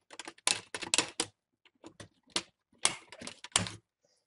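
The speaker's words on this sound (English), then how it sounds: "And the plastic frame comes off." A plastic screen bezel frame on a Toshiba C650/C655 laptop is pried off with a string of close, sharp clicks and snaps in irregular bursts, separated by brief silences.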